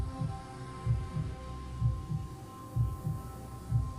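Heartbeat sound effect in a Hindi audio story: low thumping double beats in a slow even rhythm, about one per second, over a faint steady hum, with no voices.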